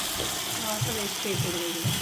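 Boiled mutton tripe is tipped with its cooking water into a pan of browned onions, making a brief, close, splashing gush under someone talking.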